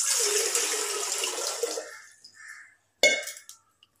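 Water poured into a cooking pot while making sweet pongal, a steady splashing rush for about two seconds that tapers off, followed by a sharp clink and brief trickle.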